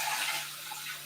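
A jigger gets rinsed under a running tap: a brief, soft, continuous splash of water falling into a sink, fairly quiet and unbroken, with a slight surge at the end.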